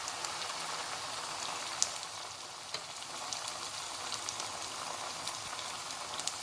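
Diced tomatoes from a can frying with masala for Saudi kabsa, a continuous soft sizzle and patter like light rain, steady throughout with a few small pops.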